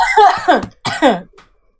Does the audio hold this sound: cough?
yes